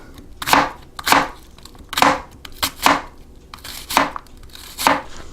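A knife slicing an onion thin on a cutting board, about ten crisp chops in a steady, slightly uneven rhythm, close and clear with no talk.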